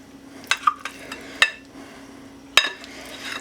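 A metal spoon clinks against a bowl while sour cream is being mixed in a home kitchen, giving several sharp, close taps at irregular intervals over a low steady hum.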